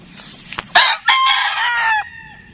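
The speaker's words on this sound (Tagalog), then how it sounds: "mga manok ko dito ay Super Brown Red, mga Mount Banahaw, at saka sweaters ng Red" Gamefowl roosters of Super Brown Red and Mt. Banahaw lines crow nearby, one loud drawn-out call following brief clucks and a sharp onset, with a second overlapping crow trailing off near the end.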